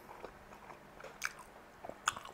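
Thin, soft Cantonese rice noodle rolls being chewed up close, quiet moist mouth sounds with two brief sharper crunch-like bites, no speech.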